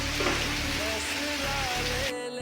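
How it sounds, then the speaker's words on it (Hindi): Rain pours down in a temple garden as a steady, dense hiss with spattering drops, close and continuous, then eases off at the very end. "तुरंत बारिश होना स्टार्ट हो जाती है।"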